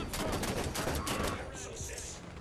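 Gunfire in the video game Halo 5: Guardians, a rapid burst of loud shots crackling for about a second before fading into softer metallic game sounds.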